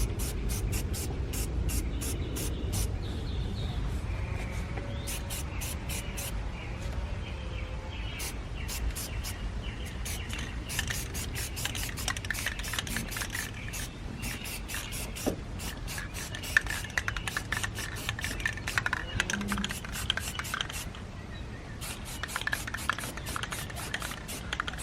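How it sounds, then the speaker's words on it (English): Short bursts of spray paint hiss onto the corners of a car hood in repeated quick passes, with birds chirping in the background. "I'm gonna go ahead and get these corners painted"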